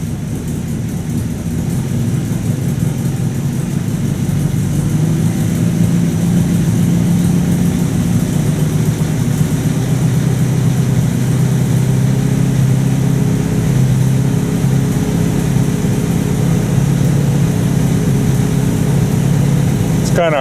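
Low, steady idle of a 1950 Buick Roadmaster engine running close by, holding an even rumble for the whole stretch with a slight swell in the middle as it is given a little gas, and no clear talk over it.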